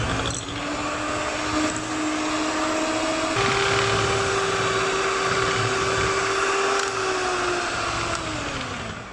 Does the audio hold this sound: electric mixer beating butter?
yes